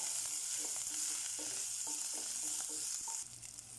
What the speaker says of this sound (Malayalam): ഇഞ്ചി വെളുത്തുള്ളി പച്ചമുളക് നന്നായി വഴറ്റുക